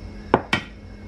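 Two quick hard clunks, about a fifth of a second apart, as papaya pieces drop into a juicer jar, close and clear in a quiet kitchen.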